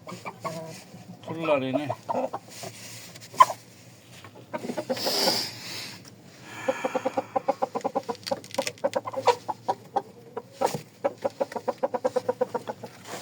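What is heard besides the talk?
chicken clucking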